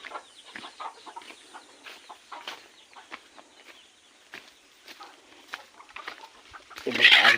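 Soft, scattered clucks and small chirps from free-range chickens, faint and irregular, ending in a sudden louder burst of noise.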